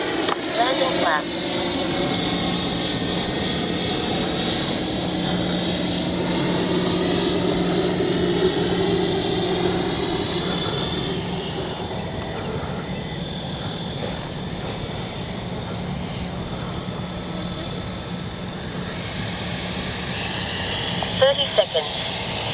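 An FMS Avanti S 90mm electric ducted-fan RC jet passes in flight with a steady, loud whooshing whine that swells and fades slightly, a wind-buffeted roar throughout and a brief bump near the end.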